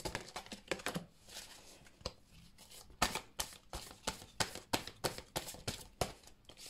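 Tarot cards are shuffled and drawn in a quiet room, a run of soft, crisp riffles and snaps coming in irregular bursts close to the listener, with no talking.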